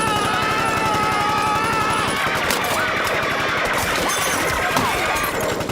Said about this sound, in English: He once confused a bunch of kids in vampire Halloween costumes from monsters and unleashed rapid gunfire on all of them.